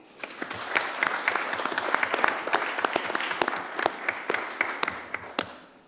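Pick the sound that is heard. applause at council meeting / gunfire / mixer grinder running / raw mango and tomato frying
applause at council meeting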